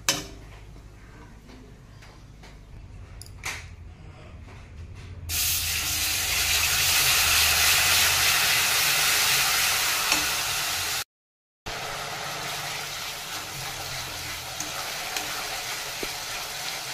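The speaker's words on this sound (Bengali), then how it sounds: "এখন তেল গরম করে তার মধ্যে জিরে ফোড়ন" Cumin seeds tempering in hot oil in a wok: after a quieter opening, a loud, steady spitting hiss swells up and holds, broken by a brief moment of silence before it resumes.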